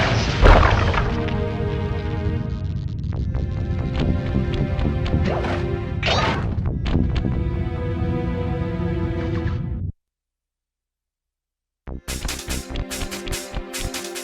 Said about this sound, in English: Break me out of this force field by smashing its base